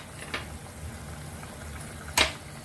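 Pumpkin curry with tamarind water bubbles in a pot with a low, steady simmering burble, marked by two brief sharp splashes or taps, close and without talk.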